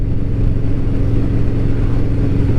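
Harley Davidson Road Glide motorcycle engine while riding in fall weather, a steady low rumbling drone with slight pulsing, close and continuous, no talking.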